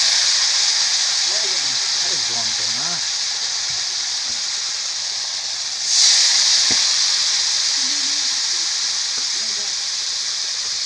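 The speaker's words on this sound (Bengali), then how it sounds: "এবার জল দিয়ে দেবো। সর্ষে বেটে নিয়েছি, সর্ষেটা দিয়ে দিলাম।" Potatoes fry in a pan as water and ground mustard paste go in, giving a steady broad hiss with a brief louder surge partway through. A voice talks quietly at times.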